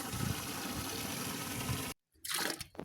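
A steady rush of ten liters of water pours continuously into a container for making emulsion paint, breaks off for a moment, then resumes with a splashier, shifting flow.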